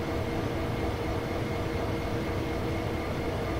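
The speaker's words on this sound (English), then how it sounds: "let the train continue to coast its way down." Steady broadband rumble of a train coasting downhill in the video game Train Sim World 5, an even, continuous rolling drone with no distinct clanks or talk.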